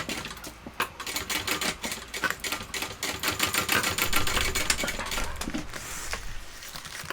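A domestic sewing machine stitching a shoulder bag seam, producing rapid mechanical clattering bursts with short pauses between runs, close and fairly loud.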